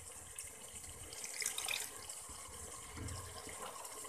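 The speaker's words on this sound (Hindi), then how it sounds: "हल्का सा पानी का छींटा और लगाएंगे।" A splash of water goes into chicken and potatoes frying in masala in a pan, giving a running, watery hiss with a brief louder burst partway through and no speech.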